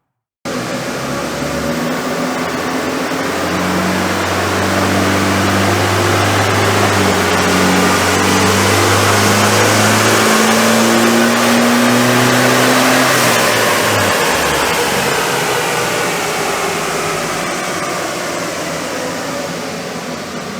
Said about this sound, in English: Let's get on the dyno and give it a run.